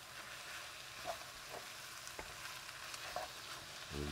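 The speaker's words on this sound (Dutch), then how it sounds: "Dan bakken we ook even mee." Frozen peas fry in a pan while making Indonesian pastel goreng filling, a quiet steady sizzle broken by a few soft stirring clicks and scrapes, close up, with no talk.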